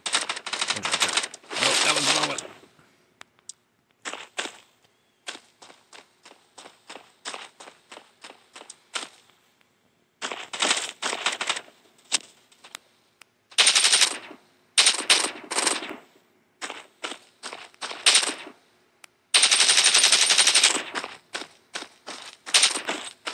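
Automatic gunfire in the shooter game Warface crackles in rapid bursts of varying length, loud and close, separated by short gaps of near silence.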